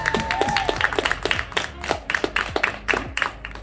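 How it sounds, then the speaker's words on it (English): Audience clapping for a graduate during a 2020 graduation celebration, a brief patter of claps with voices talking over it and a rising whistle-like tone near the start. "Round of applause for Eric."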